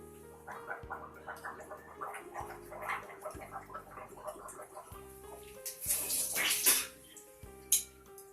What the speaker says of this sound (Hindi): तो दोस्तों आप ये ढंग से गार्गल कर सकते हैं।